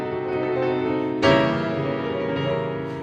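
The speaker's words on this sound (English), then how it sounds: "One of them is called a diminished chord. It sounds like this." A tense, dissonant diminished chord on piano sounds and holds, then a second, brighter chord is struck over it and rings on.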